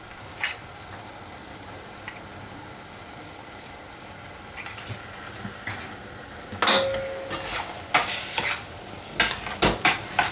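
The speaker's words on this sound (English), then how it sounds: "Mix them in thoroughly so the color, the turmeric is evenly distributed" Turmeric and salt being stirred into soy mince curry in a pan: intermittent scraping and spoon clinks against the metal, sparse at first and then busier and louder in the second half, with no talking.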